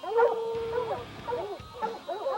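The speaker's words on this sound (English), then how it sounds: "It's time to get the dogs out of the cave and away from the bear." Hunting dogs howl and whimper at a black bear inside a cave, several drawn-out, wavering howls rising and falling close by, with short yips between them.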